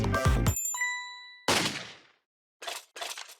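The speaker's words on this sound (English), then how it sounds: "just ring the bell" Bell ringing in Ghost Trick: Phantom Detective, a bright ding with a ringing tone that fades, followed by a sharp clang and a few short clattering hits.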